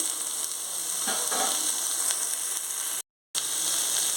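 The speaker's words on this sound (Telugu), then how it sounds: "ఇప్పుడు పచ్చి వాసన పోయినంత వరకు వేయించుకోవాలి అల్లం వెల్లుల్లి పేస్ట్ ఎగిపోయింది వెజిటేబుల్స్ అన్నీ వేసేసుకోవాలి" Vegetables frying with ginger garlic paste for foxtail millet khichdi, a steady close sizzle with light stirring scrapes throughout and a brief dropout near the end.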